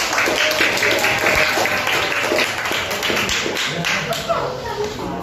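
An audience applauds steadily and densely throughout, a continuous wash of many hands clapping at an even level, nearby and fairly loud.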